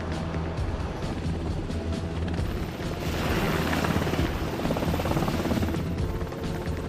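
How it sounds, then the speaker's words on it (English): A helicopter on an aircraft carrier drones steadily with a low rotor thrum and broad engine roar, growing louder midway as it passes close overhead. "Helicopters also help out."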